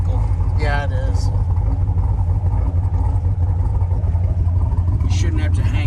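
An old C2 Corvette engine idles roughly with a loud, close, low rumble that wavers unevenly, while people briefly talk over it.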